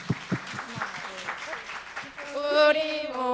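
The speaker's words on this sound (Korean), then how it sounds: "큰 박수 부탁드립니다" Applause at a school presentation by Seoul Daewon Girls' High School students on multicultural awareness: a few separate claps at first, then the clapping fades as voices start speaking together.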